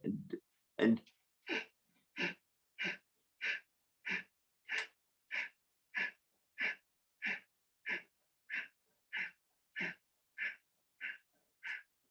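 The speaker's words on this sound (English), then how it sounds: "Keep breathing in and out" Kapalbhati yoga breathing during a class: about seventeen sharp, forceful breaths pushed out through the nose at an even, quick pace. Each breath is a short puff with a near silence between, heard close and alone.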